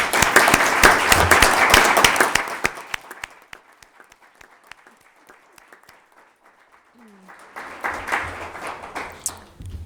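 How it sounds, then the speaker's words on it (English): Audience at a school board meeting applauding promoted staff, loud clapping that tapers into scattered individual claps, then swells again near the end. "let's have you stand so we can give you a round of applause"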